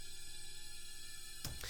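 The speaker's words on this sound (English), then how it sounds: "we also used an EBow" A faint, steady sustained string tone from an EBow, with a hum-like drone, holds evenly, then a brief brighter burst of noise breaks in near the end.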